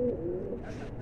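A single pigeon with ice-quality plumage gives a short, soft coo, close and alone.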